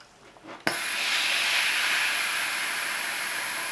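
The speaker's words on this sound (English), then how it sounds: "the steam of the iron" A steam iron lets out a sudden burst of steam onto a polyester Australian Army short-sleeve shirt. A sharp onset turns into a loud, steady hiss that holds for several seconds, heard close, after a few faint soft sounds.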